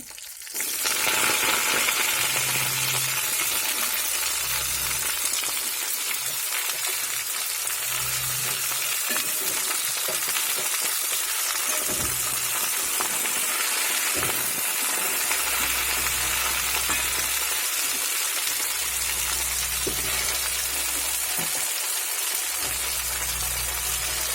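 Bottle gourd leaves hit a hot frying pan for a fish-head pituli dish, giving a loud, steady sizzle and crackle that holds for the whole stretch, with occasional stirring and no talking.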